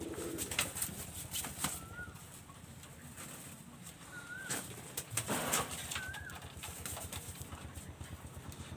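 Royal Teddy pigeons in a loft, bursts of wing flapping and soft scuffling with a few faint calls spread across a quiet background, no talk.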